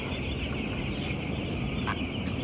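Many chickens in a colony rack cage coop give a dense, continuous chorus of clucks and calls, a loud, steady barnyard din with no talk over it.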